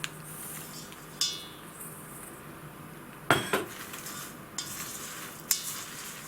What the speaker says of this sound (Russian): И сюда же я добавлю кокосовые чипсы.